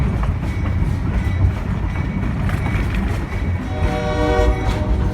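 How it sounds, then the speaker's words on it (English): A Georgetown Loop Railroad locomotive blows its horn signal at an old wagon road crossing, long sustained blasts over the rumble and clatter of the rolling train, loud and close. "Tam blows a signal as we cross the old wagon road."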